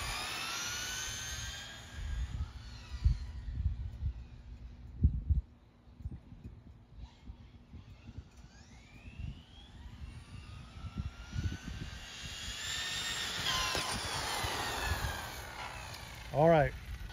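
A Tekno SCT410 short-course RC truck on slick tires, with a 2S battery and a 4300 kV Hobbywing motor, whines as it speeds up and passes by. Its motor pitch rises and falls in sweeps over scattered knocks and people talking.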